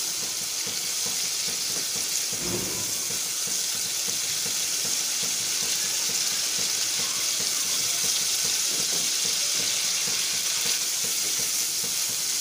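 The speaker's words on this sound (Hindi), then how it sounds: "इसी तरह हम इसको फ्राई करेंगे 10 से 12 मिनट।" Mashed canned tuna frying with spices in a pan, giving a steady, loud hiss of sizzling oil that runs unbroken throughout, with a brief stir partway through.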